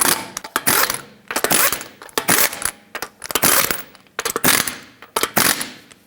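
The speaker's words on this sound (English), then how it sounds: "Put on all 5 of your lug nuts, bottom them out, and torque them to 83 foot-pounds." Lug nuts are spun onto a Nissan Pathfinder wheel, making a repeated sequence of about five rapid metallic rattling bursts with short gaps between them. The clinking is close and clear.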